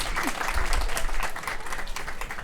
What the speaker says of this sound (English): we have to welcome our dignitaries with huge round of applause